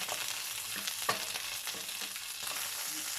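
Chicken fries with garlic in a pan with a steady, even sizzle, broken by a few soft scrapes of stirring.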